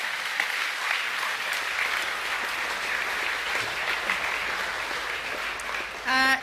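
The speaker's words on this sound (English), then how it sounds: "Can we have a round of applause for the credit, please?" A school assembly audience gives a sustained round of applause, an even, moderately distant wash of clapping from many hands that swells briefly near the end.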